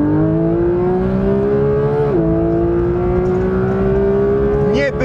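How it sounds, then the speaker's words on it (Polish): Porsche 911 GT3 sports car driving hard on track with ceramic brakes, a loud sustained engine howl rising steadily in pitch with one quick gear-change dip midway, heard from inside the car. "Niebywały wóz sportowy"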